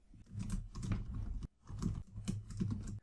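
Someone types quickly on a computer keyboard while entering data into an Excel spreadsheet, two dense bursts of rapid key clicks broken by a brief pause, close and clear.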